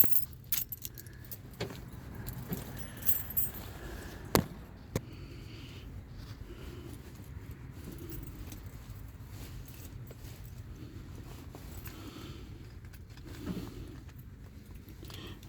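Keys jingle and clink in a handful while someone hunts for the right key to a high school hot rod pickup. The metallic rattles come in bursts over a low vehicle hum, with a few sharp clicks.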